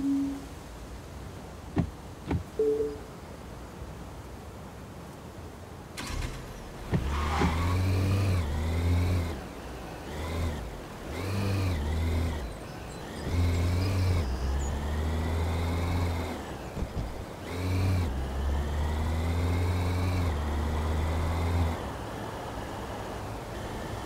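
A car engine in Taxi Life Simulator, a taxi-driving game, hums and revs as the cab drives through the city, pitch rising and falling with repeated accelerations, preceded by a few faint clicks.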